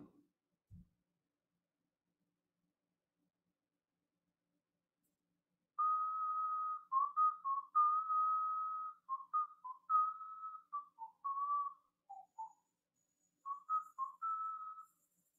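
A person whistles a melodic tune alone in an otherwise quiet room, a steady run of clear pitched notes that starts partway through and pauses briefly before finishing.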